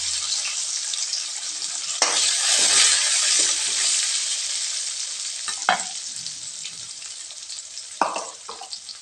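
Onion and coriander frying in hot oil, a steady loud sizzle that surges when the pan is stirred, with a few sharp scrapes of a spoon against the pan.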